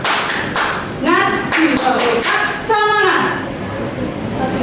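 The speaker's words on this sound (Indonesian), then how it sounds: "Kalau saya katakan tepuk semangat, semangat." Classroom students doing a rhythmic spirit clap in a set beat pattern, sharp claps in short bursts mixed with chanted voices.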